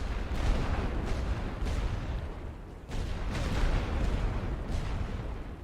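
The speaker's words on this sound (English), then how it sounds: "Watch the incoming artillery fire." Artillery fire in a World War I strategy game, a dense continuous barrage of booming blasts and rumbling explosions that carries on steadily and loud throughout, with a brief dip midway before the shelling swells again.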